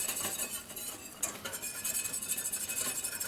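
A whisk working beer cheese sauce in a pan, continuous metallic scraping and clinking with a constant rhythm, close up and fairly quiet.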